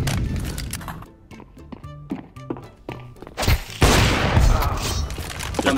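Counter-Strike 2 gunfire comes as a string of sharp, thudding shots in bursts, then a louder, denser barrage of blasts, heard close and punchy.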